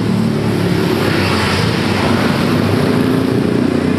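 A 2013 Toyota Avanza G with automatic transmission, its engine running at a steady low hum with constant road and cabin noise, close and even throughout, with no voices.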